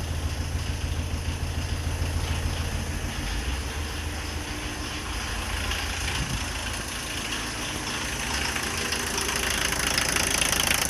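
Old diesel car driven daily for over 40 years idling steadily, a continuous close, loud clattering rumble with a slight rise in level toward the end.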